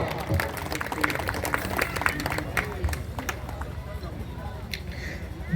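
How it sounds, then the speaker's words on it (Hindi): Audience at a Bhojpuri birha stage performance breaks into steady, dense clapping mixed with crowd murmur, sustained without a break for several seconds. "एक बार जोरदार ताली से सम्मान"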